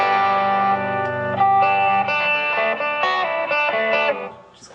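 A Peavey Vypyr 30 guitar amp on a distorted tone plays sustained, buzzing chords that shift every half second or so, loud and steady, with the final chord fading out near the end.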